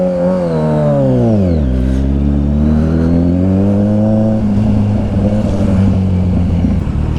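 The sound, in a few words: Kawasaki Ninja 1000SX motorcycle riding off in rain mode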